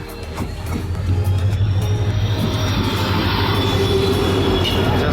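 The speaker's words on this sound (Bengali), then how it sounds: "তো ট্রেন চলে আসছে" A train pulls into a crowded station at night, its heavy rumble building and holding with a high metallic wheel squeal running over the top.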